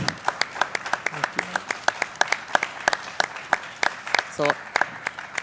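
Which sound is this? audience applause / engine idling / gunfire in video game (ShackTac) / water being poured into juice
audience applause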